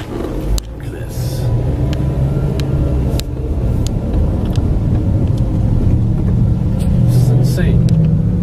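A line of cars queued at a gas station during a fuel shortage in North Texas, engines idling in a steady low rumble close by, with a few sharp knocks and clicks, partly under someone speaking.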